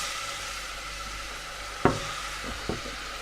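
Onions, celery and carrots in a pan of oil that is not very hot, giving a soft, even sizzle broken by a sharp clank and a couple of lighter knocks.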